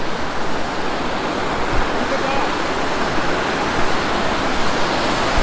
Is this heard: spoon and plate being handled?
no